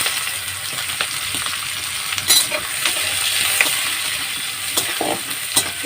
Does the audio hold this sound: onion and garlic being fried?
yes